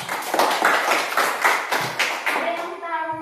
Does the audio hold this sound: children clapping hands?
yes